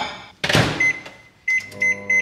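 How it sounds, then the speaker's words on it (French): A microwave oven melting chocolate and butter for brownies: a door clunk and loud rustle up close, then the electronic beeps of the control panel being pressed. "Donc je fais fondre tout ça au micro-ondes."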